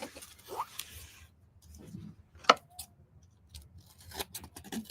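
Scissors snip through craft material for an Easter project with a few soft cuts and one crisp, sharper snip midway, close and quiet between stretches of low talking.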